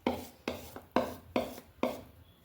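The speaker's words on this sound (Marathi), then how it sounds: "छान हलवून घ्यायचं आपल्याला पीठ." Idli batter being mixed by hand in a bowl, five soft, wet slapping strokes in an even rhythm about half a second apart, close up and alone.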